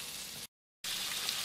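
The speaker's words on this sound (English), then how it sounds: "We'll let them sizzle for a little bit." Spicy Cajun sausage and apples sizzle in a pan over medium-high heat, a dense, steady frying hiss that briefly cuts out before resuming just as loud.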